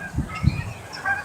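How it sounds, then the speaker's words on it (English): Geese flying overhead give two faint, distant honks in quick succession against an open outdoor background, followed by soft fainter calls. "the geese are flying overhead"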